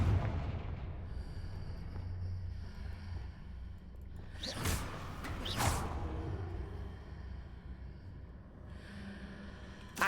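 A Confringo spell blast goes off in the video game Hogwarts Legacy, with a pair of sharp, loud bursts and whooshes mid-clip over a steady background rumble.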